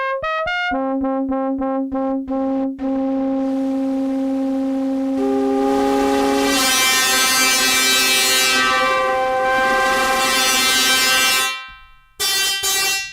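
Harsh, metallic FM-style tones from an Erica Synths Steampipe synthesizer with a jangly, brassy edge play in sustained chords that shift and swell, loud and alone, ending with a brief cutoff.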